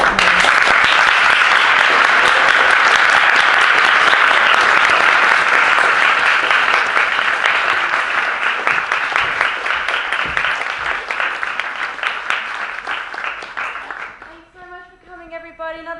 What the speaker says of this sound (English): another round of applause for our amazing